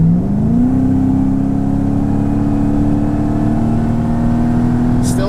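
A Mercedes-Benz E55 AMG W210 with a Kleemann 55-K2 supercharger and a misfire fault accelerates hard from inside the car, its loud engine drone climbing in pitch early and holding a strained, steady roar.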